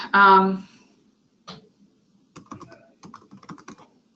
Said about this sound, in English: I'm typing live in a demo, I know.